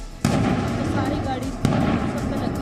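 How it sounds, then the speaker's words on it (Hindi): Two loud, sharp gas cylinder explosions boom about a second and a half apart over a continuous roaring, crackling forest fire. "जंगल में एक के बाद एक धमाके और उससे निकलती आग।"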